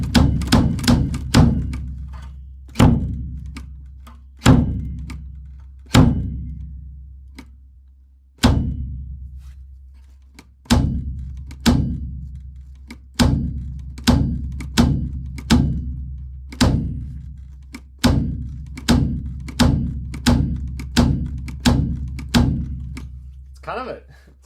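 A bass drum beater thumps repeatedly, each hit a close, solid thud with a short ringing tail, about two dozen strokes in irregular spacing that speed into quicker runs toward the end, with no voices.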